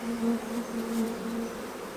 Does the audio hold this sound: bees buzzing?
yes